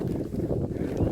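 Wind buffeting a hillside, a rough low roar with gusty rumble across the microphone, steady and close with no other sounds.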